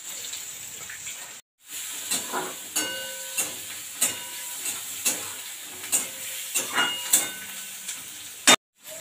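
Cumin seeds and chopped onion frying in oil with cardamom and bay leaf in a pan, a steady close sizzle and hiss broken by repeated soft stirring clicks and scrapes, after a brief silent gap near the start.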